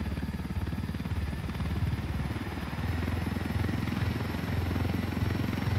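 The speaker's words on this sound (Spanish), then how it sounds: "Este helicóptero es genial." A helicopter in the Ghost Recon Wildlands video game drones loudly and steadily, its rotor chop and engine buzz running unbroken for several seconds with no talk.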